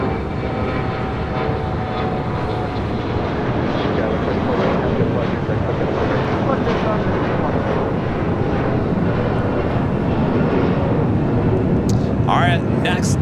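A Southwest Boeing 737-800 takes off at LAX with a loud, steady jet roar that holds throughout under wind noise and a talking commentator.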